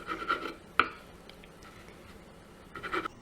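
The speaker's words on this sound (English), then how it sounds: "I'll now trim away the edges for neatness." A knife trimming the edges off a bread slice for fried apple pie pockets, with a few faint short scraping cuts at the start and end and a small sharp tap between them, close and quiet.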